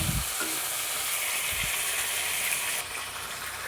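Meat frying in a pan while being stirred, a steady close sizzle with scraping stir sounds throughout, briefly quieter near the end.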